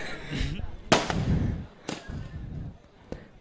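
Fireworks and firecrackers, including ground bursts, go off at a cricket match between West Indies and Australia: three sharp loud bangs with crackling tails, spaced about a second apart over a busy crowd and voice background.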